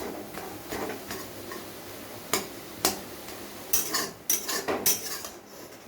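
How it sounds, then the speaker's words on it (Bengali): Boiled garlic is crushed in a pan, giving a series of sharp, irregular metal knocks and taps, clustered more densely toward the end, with quiet scraping between them. "রসুনটা সিদ্ধ হয়েছে আমার, একটু থেতো করে দেওয়া হলো।"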